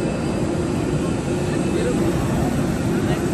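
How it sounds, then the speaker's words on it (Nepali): Airplane cabin noise as the plane begins its takeoff, a loud, steady engine roar that fills the whole stretch with no break. "चढ्न थाल्यो प्लेन"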